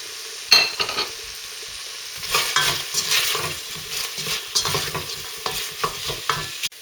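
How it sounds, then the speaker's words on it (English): Onions and garlic fry over low gas in a pan used for a British beef stew, with a soft continuous sizzle broken by repeated close scraping and stirring strokes; no one speaks. "Fry the onions in the same pan until they're brown"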